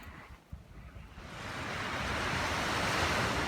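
Waves washing onto a beach beside a nuclear power plant, a broad rushing surge that swells and holds steady, with some wind buffeting the microphone.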